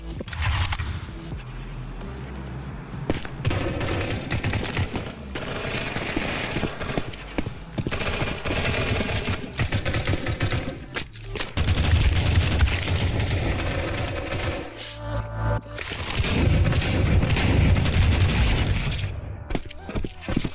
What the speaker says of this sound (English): Sometimes the shotgun can be overpowered